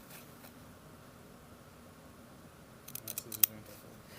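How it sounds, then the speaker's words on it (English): Scissors cut fabric for a double welt pocket, a short cluster of crisp snips late in a quiet room with faint background hiss, one sharp closing snap standing out. "line up the point and then just pull the scissor together"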